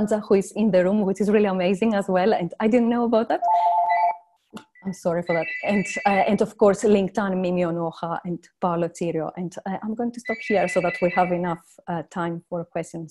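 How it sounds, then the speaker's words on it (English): A telephone rings with repeated electronic trills in the background during an online presentation, coming in short bursts under steady speech from the presenter. "I'm sorry for my phone in the background."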